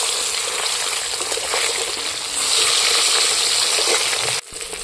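Fish pieces fry in hot oil with a loud, steady hiss and crackle that intensifies midway as a piece is turned, then drops abruptly near the end.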